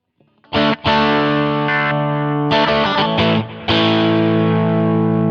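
Electric guitar played through a Line 6 Helix Stadium on a slightly crunchy Princeton-style clean amp: a few loud strummed chords and single notes ringing out with sustain and short gaps between them.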